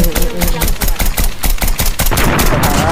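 Rapid automatic gunfire in Call of Duty Mobile rattles loudly in quick, evenly spaced bursts with sharp repeated cracks, dense and close throughout.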